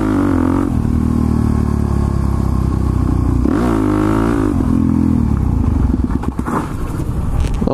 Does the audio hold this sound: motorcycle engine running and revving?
yes